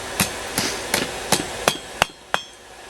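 Seven sharp, ringing hammer blows land on steel bent over the edge of an anvil while forging a right-handed steak turner, spaced at a slightly quickening pace, loud and close with no talk.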